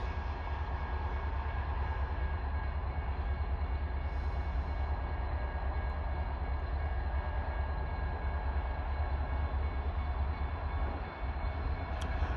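A steady rumble of CN freight cars rolling past while switching in Pembine, continuous and unbroken, with a faint rhythmic rattle underneath.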